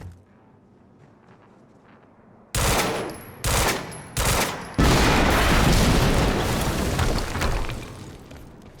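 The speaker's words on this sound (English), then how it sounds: "we just heard an explosion near the harvesting perimeter" A quiet stretch suddenly erupts into heavy gunfire bursts in the action game Quantum Break, then a loud explosion rolls into a sustained, roaring blast that slowly fades.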